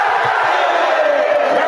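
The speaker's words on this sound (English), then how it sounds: "Nittany Lion dunks brought the crowd to its feet." A packed basketball arena crowd roars and cheers after a Penn State dunk, a dense, loud, sustained wall of voices with no single speaker standing out.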